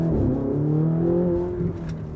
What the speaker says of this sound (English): I mean, does your car sound like this?